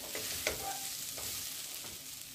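Baby sweet corn and mixed vegetables sizzle and fry in a pan over low heat, with a few sharp spoon scrapes and clinks over a steady hiss, close up and without speech.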